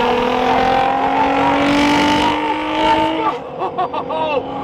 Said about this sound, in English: that car just takes off right there